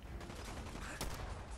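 Rifle gunshots in the Fallout 4 video game: a quick series of faint, muffled shots over a dense background rumble, brief and repeated.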